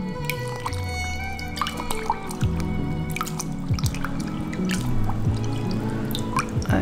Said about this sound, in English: Then we're gonna take the blossom, put it in fresh water, clean it,